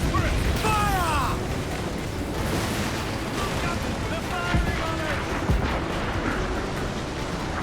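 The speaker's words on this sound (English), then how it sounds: "They're bringing the big guns to bear! Firing. Fire!" Ship cannon fire in the video game Black Flag, heavy booms and rumbling blasts over continuous sea and battle noise, with voices shouting at times.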